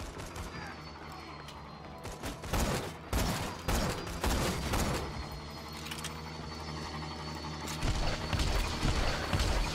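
Gunfire blasts at a buzzard in Borderlands 2, loud bursts and rattling volleys of shots stacking up through a busy firefight, with speech mixed in.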